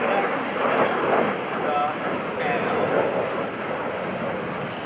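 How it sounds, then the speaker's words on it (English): An F-16 Fighting Falcon jet roars steadily in a broad, windy rush at an airshow, with an announcer talking over the engine noise the whole time. "the F-16 Fighting Falcon"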